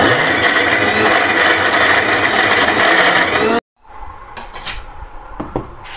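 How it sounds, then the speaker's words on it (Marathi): Mixer grinder grinding a spice paste for a bitter gourd dish, a loud dense whirring roar that cuts off abruptly, followed by quieter clinks and knocks of the jar and utensils. "हे सर्व आता वाटण मी वाटून घेत आहे मिक्सरमध्ये."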